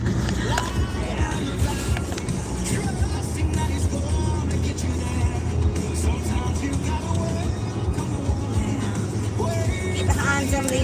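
Road traffic with big trucks rolls past in a steady, loud drone of engines and tire roar, with occasional brighter rattles and a voice talking over it throughout.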